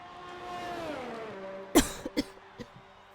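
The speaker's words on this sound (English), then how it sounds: "Got a bit of a cough" A single sharp cough cuts through a steady racing-game engine drone, followed by a couple of smaller coughs or throat sounds.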